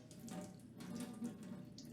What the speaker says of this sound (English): And then what we're gonna do is just drain off the water